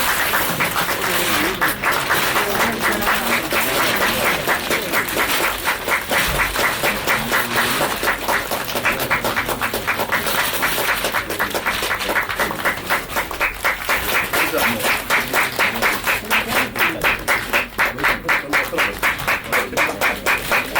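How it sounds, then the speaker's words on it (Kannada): Loud, sustained applause and clapping from an audience at a video album release event, dense rapid claps continuing steadily throughout without pause. "ನಮ್ಮ ಟೀಮ್ ದಯವಿಟ್ಟು ಜೋರಾಗಿ ಚಪ್ಪಾಳೆ ಬರ್ಲಿ"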